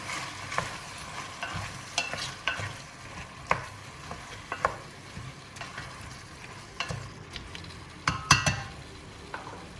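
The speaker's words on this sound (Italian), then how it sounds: "mettiamo le cipolle. Perfetto. Mescoliamo bene." Onions are stirred in a pan after wine has cooked off, for a Neapolitan Genovese: irregular spoon clinks and scrapes over a low, quiet sizzle, close by and with no voices.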